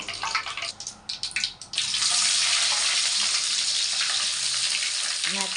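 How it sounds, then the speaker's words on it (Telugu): Small methallu fish frying in a pan, loud steady hiss and sizzle after a few brief splashy bursts, close up with no talk. "మెత్తల్లో వేపుడు చేస్తున్నాను, ఫ్రై చేస్తున్నాను ఫ్రెండ్స్."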